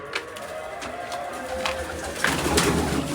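Pigeons coo in soft, repeated low calls close by, with a few higher chirps and faint background rustling.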